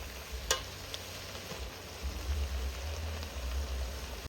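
Pork frying in oil in a pan in a Thai home kitchen, a steady soft sizzle with one brief sharp crackle near the start and low rumbling underneath.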